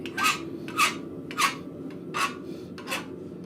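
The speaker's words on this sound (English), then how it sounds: "it does not take long with a file, so I will use a file" A hand file rasps across scrap metal in a blacksmith shop, five slow, evenly spaced strokes, each a short gritty scrape close by with no talk.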